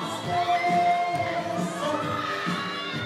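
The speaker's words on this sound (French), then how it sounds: "les cris des fans qui les ont attendus des heures" A crowd of fans shouting and cheering loudly at a Cannes 2019 red carpet, with excited high voices overlapping continuously and a steady tone running beneath the din.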